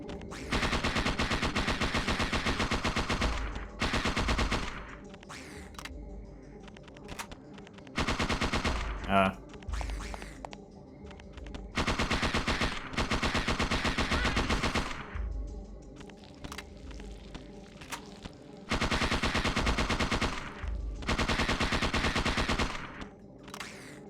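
An automatic weapon in the game Parasite Eve II fires long rapid-fire bursts, loud and close, repeating several times with short gaps and game sounds between them.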